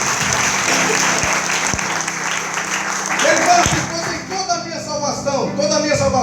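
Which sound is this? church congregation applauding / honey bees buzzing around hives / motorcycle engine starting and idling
church congregation applauding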